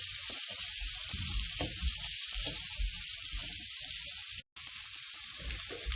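Onions and chopped garlic fry in a pan over a medium-high flame, giving a steady close sizzle with soft stirring scrapes throughout and one brief cut to silence near the end.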